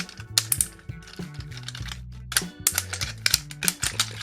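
The metal feet of a Cardbot toy click as they are turned, giving a close, dry series of rapid plastic-metal clicks and ratcheting ticks in uneven bursts.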